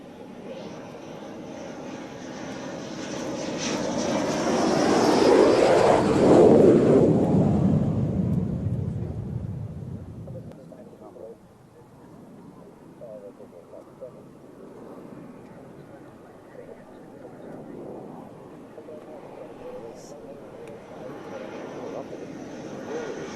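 A Mirage F1 jet passing overhead, its roar swelling to a loud peak and then fading away into a lower rumble.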